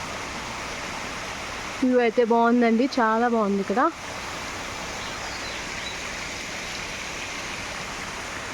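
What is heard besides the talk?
waterfall in the Manali hills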